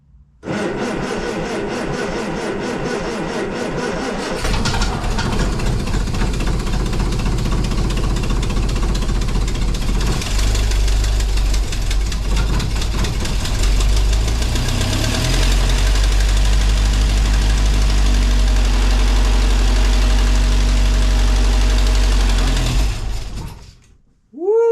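A Triumph TR4 engine with a freshly wired choke cranks and catches after a few seconds, then runs loud and steady at a rough, rumbling idle for about twenty seconds before abruptly cutting off.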